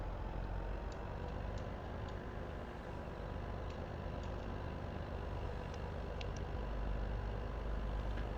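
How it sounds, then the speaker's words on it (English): A truck engine idling in an American Survival farming game along the Missouri River, a steady low rumbling drone at constant loudness, with faint light clicks scattered over it and no talk. "Now time to get the truck back."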